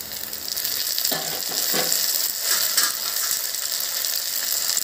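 Chopped tomatoes hit a hot oiled pan of lightly browned base for a raw rohu fish malai curry, setting off a close, steady sizzle with scraping stirs and brief louder bursts.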